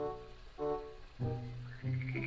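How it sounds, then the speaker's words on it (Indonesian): A rice field frog croaks three times in slow succession, each call a short harmonic rasp, close and fairly quiet with brief pauses between calls. "katak sawah"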